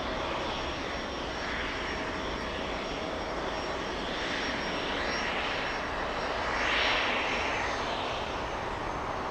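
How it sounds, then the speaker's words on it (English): An Emirates airliner moves on the ground at Los Angeles International Airport, a steady, loud engine roar that holds continuously with a slight swell near the end, with no talk. "All right, Emirates on the move."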